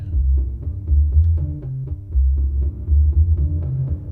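A low, throbbing bass-heavy musical loop pulses repeatedly through a Bricasti percussion plate reverb, the tail smearing each beat into a dense, dark wash.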